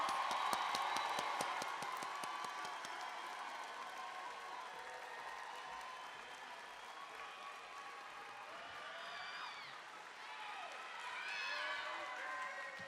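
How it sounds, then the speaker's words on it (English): Graduation crowd applauding the graduates in a large hall, sustained rapid clapping with a few cheers, strongest at first and then settling under a steady murmur of voices and scattered shouts. "Let's have a round of applause for all of our legends."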